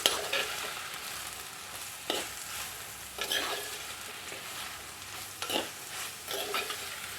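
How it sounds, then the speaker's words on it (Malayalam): Chopped ridge gourd fries in oil with salt while a spoon stirs it, giving a low continuous sizzle broken by several distinct scraping strokes a second or so apart. "നന്നായിട്ടൊന്ന് ഇളക്കി കൊടുക്കാം"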